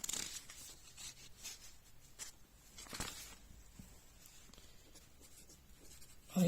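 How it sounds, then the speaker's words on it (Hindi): A pen scratches quickly across paper as an ideal gas equation is written out by hand in a chemistry lesson, a faint, close, irregular scribbling with short strokes and pauses and no talk. "यहाँ पे मैं लिखना चाहूंगा"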